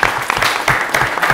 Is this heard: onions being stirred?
no